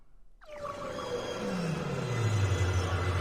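A long, eerie Pokémon cry from a video game that rises from silence, swells and then slides downward into a sustained, growling low tone, loud and reverberant.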